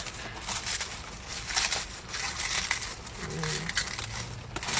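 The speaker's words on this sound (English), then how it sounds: "Let's peel the plastic off." Protective plastic film being peeled off a Traxxas TRX-4M black Bronco RC car body makes soft crinkling and rustling up close, running under steady background noise while a person talks.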